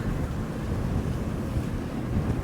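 Strong sea wind buffeting a sailing boat motor-sailing out of a fjord in winds up to 20 knots, a steady loud roar of gusts and rushing water throughout with no voices.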